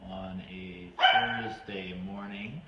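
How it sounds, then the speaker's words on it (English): Dogs at home let out one sharp bark in the background, cutting in briefly between stretches of a person speaking. "you may hear our dogs making noise in the background"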